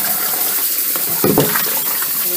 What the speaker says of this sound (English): We're gonna rinse with some hot water.